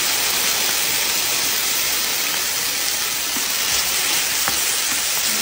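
Corn kernels frying in hot oil in a pan for chicken tortilla triangle sandwiches, a dense, steady close-up sizzle with a few faint pops, no voices.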